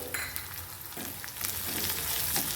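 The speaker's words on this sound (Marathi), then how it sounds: "हिरवी मिरची लसूण आणि थोडंसं अद्रक थोडं जिरं हे वाटून घेतलं होतं ते ह्याच्यामध्ये आपल्याला छान तेलामध्ये परतून घ्यायचे" Ground green chili, garlic, ginger and cumin sizzle and fry steadily in hot oil, with a few scraping stirs mixed into the close, continuous crackle and no voices.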